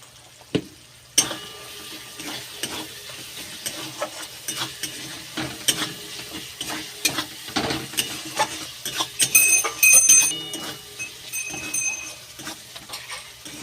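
Spiced masala with chopped tomato and a spoonful of salt sizzles in oil in a pan for chicken do pyaza, with steady scraping and stirring strokes and clinks of a spoon throughout, close and moderately loud.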